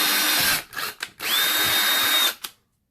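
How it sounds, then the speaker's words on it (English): A power drill with a small bit whines loudly in short bursts drilling holes in PVC, spinning up, pausing, then running a longer steady stretch before stopping; close and alone. "take our smaller drill bit and we are going to drill the 2 top holes"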